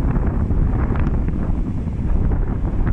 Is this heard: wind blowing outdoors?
yes